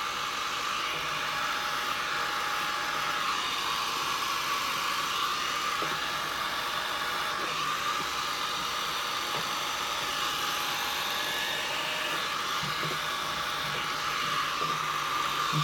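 A blower pushing air steadily across alcohol ink on a painting surface, a constant close whooshing hiss with no breaks, heard alone.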